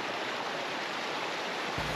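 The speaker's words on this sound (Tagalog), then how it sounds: "Nandito na nga pala kami sa ilog." A wide, lively river in Bagac, Bataan flows with a steady, even broadband rush of water, continuous and close with no voices.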